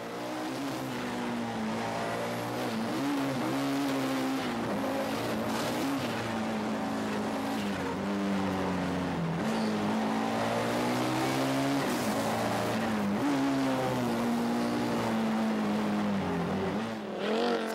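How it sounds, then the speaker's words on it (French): Audi Quattro S2 rally car racing at a 1994 rally event, its engine roaring loudly and continuously with rising and falling revs through gear changes, close to the microphone with no talking. "les frères Sprangel sur la Audi Quattro S2. Une autre superbe machine de compétition"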